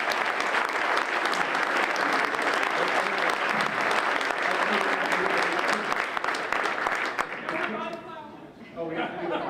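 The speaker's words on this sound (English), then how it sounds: "So let's have a round of applause." A Rotary Club meeting audience gives a sustained round of applause, loud and continuous, with voices and chatter emerging as the clapping tapers off at the end.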